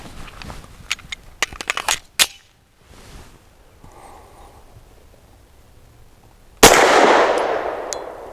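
A single loud Taurus TS9 pistol shot with non-toxic 100 grain ammunition, close and sharp with a long ringing decay, preceded by scattered light clicks and handling noises.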